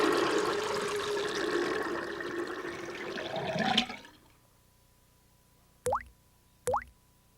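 A toilet flushes with a loud, rushing swirl that builds and then cuts off abruptly. Quiet follows, broken by two short, sharp squeaks.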